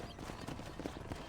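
Horse hooves clip-clop steadily at close range in the Red Dead Redemption video game, a soft, even gait over a low background hum.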